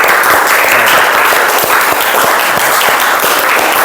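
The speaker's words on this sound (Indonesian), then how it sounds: "Berikan aplaus untuk kalian semuanya." A class of students applauding together after group presentations, dense continuous clapping that fills the room, loud and near for the whole stretch, with no talk over it.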